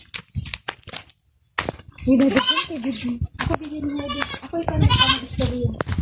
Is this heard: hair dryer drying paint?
no